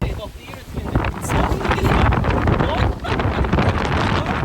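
Strong gusting wind at the ancient ruins of Troy buffets the microphone with loud, rumbling blasts that rise and fall.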